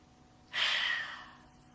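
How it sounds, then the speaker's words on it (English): A single forceful open-mouthed exhale, a yoga lion's breath, rushes out loud and breathy before fading away over about a second, with quiet before it. "As you open your mouth wide, eyes wide, sticking out your tongue, it's a breath of courage, breath of strength."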